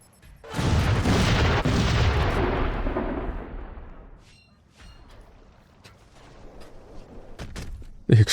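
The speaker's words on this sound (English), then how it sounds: "The explosion from that thing is so ridiculous." A nuclear grenade detonates in the Xbox 360 game Crackdown 2: a huge, loud boom with a long rumbling roar that slowly fades over several seconds, then a quieter low tail with a few faint clicks.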